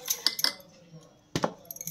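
A spoon clinks and scrapes against a bowl while mung bean and rice dosa batter is stirred with salt and homemade garam masala, giving a few sharp metallic taps followed by quieter gaps, close by.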